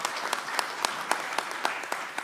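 Audience applause for the party chairman at a vice-presidential candidate declaration, a steady crowd clap with regular, prominent louder claps punctuating a dense background patter.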